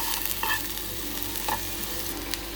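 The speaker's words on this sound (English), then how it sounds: "When your oil is hot enough, you add the chilies and you just let them cook for about a minute." Chilies cooking in hot oil for a masala chicken dish give a steady, close frying sizzle with a few brief stirring clinks, continuous throughout with no talk.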